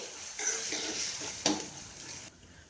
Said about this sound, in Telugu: ఇవి దోరగా వేగేలాగా వేయించుకోవాలి